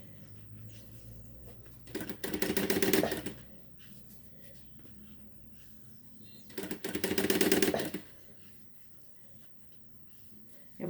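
A sewing machine stitching along a zipper on a half-moon zippered pouch, running in two short bursts of about a second each separated by quiet pauses, close and moderately loud.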